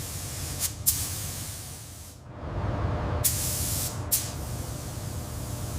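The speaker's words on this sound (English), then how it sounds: "First coat going on nice, building color." A spray gun lays Sublime Green paint onto a 1969 Dodge Charger: a loud, steady airy hiss that dips briefly mid-way, with short sharper bursts as the trigger is worked, and no voices.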